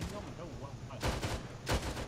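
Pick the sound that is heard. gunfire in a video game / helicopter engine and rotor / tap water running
gunfire in a video game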